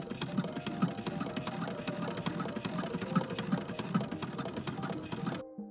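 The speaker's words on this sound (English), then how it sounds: "I pinned them right sides together and stitched up the long sides" A sewing machine stitches the long side seams of a flannel petticoat, running steadily and continuously at close range for several seconds before stopping abruptly at the end, with no talking.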